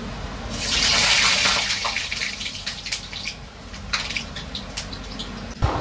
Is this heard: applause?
no